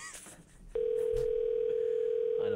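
A steady, unbroken telephone tone sounds on an outgoing call to a gas company. It cuts in abruptly after a moment of faint background noise and holds at an even level until the end.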